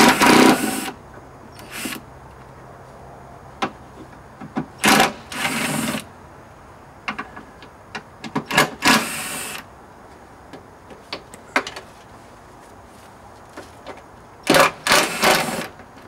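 Door screws being removed from a Volkswagen Polo while taking off the front doors: bursts of screwdriver or drill whirring, several a few seconds apart, mixed with sharp clicks and tool rattles, close by with no talk.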